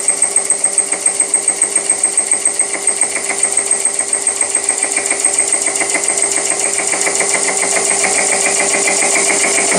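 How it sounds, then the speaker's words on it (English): A milling machine cuts a steel fixture plate, giving a loud, steady rhythmic chatter that runs unbroken throughout with no talking. "As I've progressed along the cut, I've increased the spindle speed and also the feed rate of the table."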